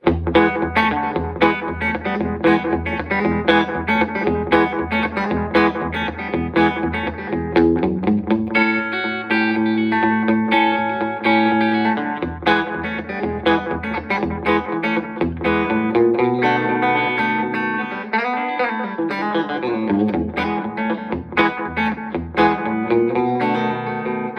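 An electric guitar plays through a Boss analog delay echo pedal, each phrase repeating in trailing delays, with overdriven tone and a rhythmic, slapback, Sun-era rockabilly feel throughout.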